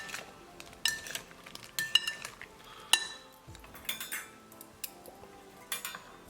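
A metal spoon clinking and scraping inside a bowl while stirring paneer tikka marinade, close and quiet, in irregular taps and swishes with no talking.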